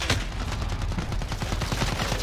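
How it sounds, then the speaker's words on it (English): Rapid automatic gunfire in a Modern Warfare multiplayer match with a P90 SMG, a dense, steady burst of shots sustained for a couple of seconds with no talk over it. "Why is this guy shooting my body?"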